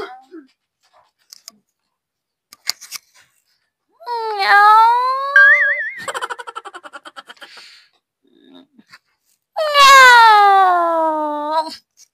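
A person imitates a sad cat, drawing out two long, whiny meows with a wavering cry between them, loud and close against near silence.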